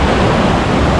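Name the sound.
waves on a river beach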